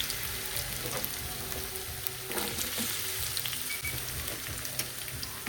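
Potatoes frying in oil, a steady crackling sizzle with a few louder bursts of spattering as they settle in the pan.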